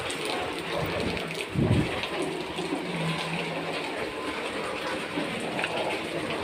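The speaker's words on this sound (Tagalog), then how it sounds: "Ulan guys. Sama ng panahon." Heavy rain pours down continuously in a dense, loud roar, with a brief low rumble partway through.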